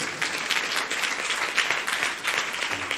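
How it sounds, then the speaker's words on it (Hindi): A church congregation applauds during a sermon, dense sustained clapping from many hands throughout, moderately loud and filling the room. "ताली जाओ खुदा के वचन के लिए।"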